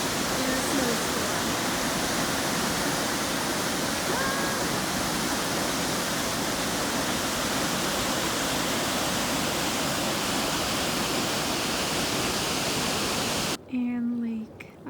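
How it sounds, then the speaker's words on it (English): Water from a lake running as a small stream beneath rocks in falling snow, near a waterfall; a loud, steady broadband rush fills the whole stretch before cutting off abruptly near the end. "that noise that you hear is the water from the lake. It forms a little stream and it actually goes underneath these rocks"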